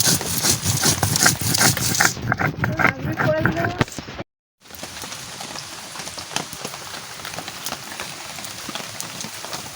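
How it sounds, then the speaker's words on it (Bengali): Onion, dried chili, coriander, cumin and garlic are ground together into a spice paste, a steady gritty scraping with a rough rhythmic texture, close by. A voice talks over the first few seconds, and the sound cuts out briefly before continuing alone. "মশলা বাটতেছি"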